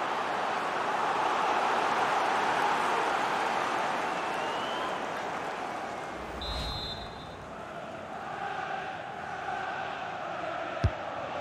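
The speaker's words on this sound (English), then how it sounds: "The crowd are certainly playing their part." Stadium crowd noise in a Premier League football video game match between Manchester City and Fulham, a steady wash of cheering and applause that holds throughout, with a brief whistle-like tone and a sharp thud near the end.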